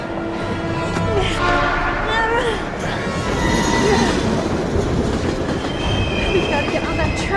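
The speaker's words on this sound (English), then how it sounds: "We've gotta get on that train, Ethan!" Train rushing past in the video game Heavy Rain, a loud steady rumble and rattle of rail wheels with squeals and a horn, under urgent shouting voices.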